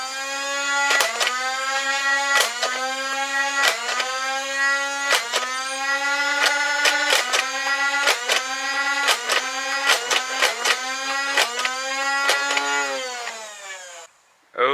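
A Nerf Elite 2.0 Motoblitz blaster shooting Adventure Force darts: a steady motorized whir with repeated sharp firing clicks, about ten shots in an uneven rhythm, close and loud, ending with the motor winding down.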